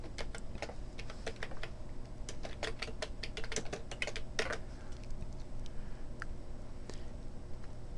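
Quick, uneven clicking of keys on a computer keyboard as text is entered, light close-up taps in short runs with brief pauses over a faint steady hum.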